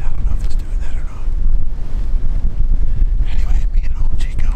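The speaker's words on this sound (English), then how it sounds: "It is windy as shit. It's 24 degrees and the wind is howling." Cold, gusty wind at 24 degrees howls and buffets a microphone in a hunting tree stand, a loud, low rumbling roar throughout, with a voice talking briefly under it.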